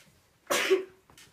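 A single sharp, breathy burst from one person, loud and close, followed by a brief quiet sound and silence.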